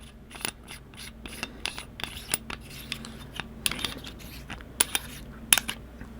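Faint metallic scraping and clicking as threaded metal sections of a custom lightsaber hilt are twisted apart, with small sharp taps and rubbing sounds up close.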